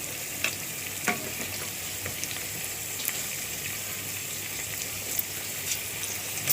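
Onions fry in a pot for Egyptian koshari, a dense, even sizzle that holds throughout, close by, with occasional soft knocks as they are stirred.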